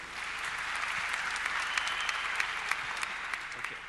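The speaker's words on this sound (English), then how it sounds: "Please give him a big round of applause." An audience breaks into steady, enthusiastic applause, dense hand clapping filling the room for several seconds with occasional sharper claps standing out.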